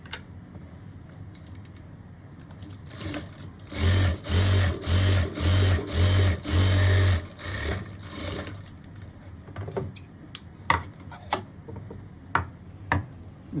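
A sewing machine runs a seam along one leg of a boy's cord set, stitching in about six short, loud bursts with brief pauses, followed by scattered clicks and handling noises.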